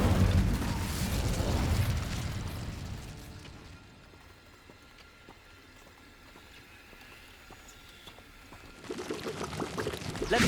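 An Incendio fire spell cast in Hogwarts Legacy bursts out with a loud whooshing, roaring blast. It fades into a quieter crackling stretch, then flares up strongly again near the end, with no talking.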